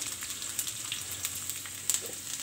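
Chopped garlic fries in hot oil for an atta aloo momo recipe. A faint, steady sizzle sounds close by with no speech, and a few soft ticks and pops break through.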